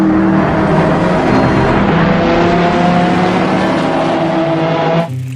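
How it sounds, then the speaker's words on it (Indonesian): A red toy race car runs with a loud, steady motor whir and hum throughout, close to the microphone, cutting off abruptly near the end. "Ini mobil balap."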